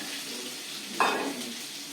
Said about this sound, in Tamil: நான் வந்து வெங்காயத்தை போடுறேன்